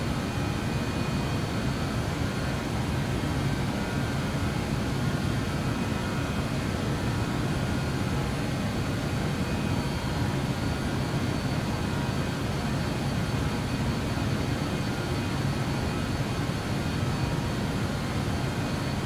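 BAe 146-100 jet engines roar at takeoff thrust inside the cabin, a loud, steady, dense broadband rumble and whine that holds unchanged throughout.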